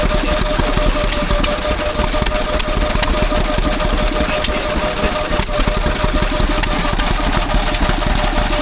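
An antique stationary engine runs at a country show, a loud, close, steady chugging with rapid regular firing beats and a mechanical clatter throughout, with no talk over it.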